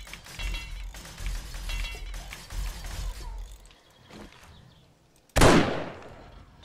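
A single loud sniper rifle shot in the game 7 Days to Die lands sharply after a stretch of quieter background play, close and abrupt, with a brief decaying tail.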